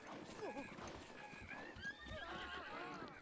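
A horse whinnies and its hooves clop in the video game The Legend of Zelda: Breath of the Wild, with faint neighs over quiet, steady hoofbeats and a voice talking.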